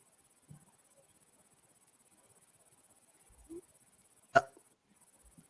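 One short, sharp burp-like gulp over an otherwise near-silent online sports chat, loud against the quiet background and standing alone.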